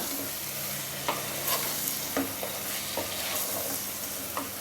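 Quail pieces, washed in turmeric, frying and being stirred into masala in a hot pan for a pepper fry, with a steady close sizzle and occasional scraping knocks of the spoon, and nobody speaking.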